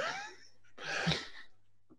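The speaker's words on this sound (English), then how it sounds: "Little coughs in the background." A short, soft cough rises out of quiet, with faint breathy sounds around it, close but low in volume.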